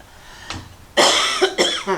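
Several sharp coughs close to the mic, a faint one first, then a loud burst followed by two or three quicker coughs.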